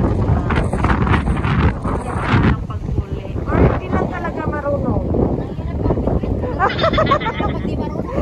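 Gusty wind buffets the microphone in a steady roar while people talk over it outdoors at the sea in South Korea.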